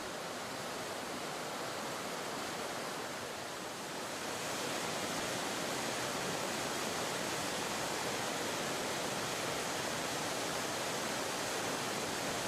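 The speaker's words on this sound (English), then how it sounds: "Emerald Pool is a small waterfall, 6 meters high." Emerald Pool, a small 6-metre waterfall at the foot of Morne Trois Pitons in Dominica, pouring into its basin as a steady full roar of rushing water, close and constant throughout with no voices.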